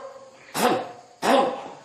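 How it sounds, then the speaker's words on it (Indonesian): Two short, forceful throat-clearing bursts, close and separated by a brief pause, with quiet room hum between them. "Dehem dengan perut."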